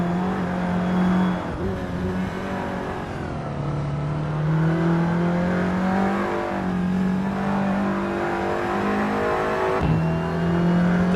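Audi TT Cup race cars accelerating at Oschersleben in Assetto Corsa, a steady, loud engine drone with rising and falling revs as gears shift, running continuously with several cars close together.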